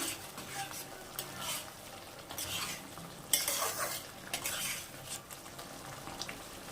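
Spice paste with Kashmiri chili powder is sautéed in oil for a river boal fish curry with potato and bitter gourd, a soft sizzle under repeated close stirring scrapes of a spoon against the pan, no talk.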